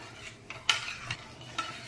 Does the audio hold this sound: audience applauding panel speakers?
no